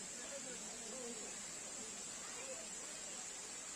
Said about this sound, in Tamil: மலை அருவியிலிருந்து அருவி கீழே கொட்டும் அருமையான ஓசை நம்மள வரவேற்கிறது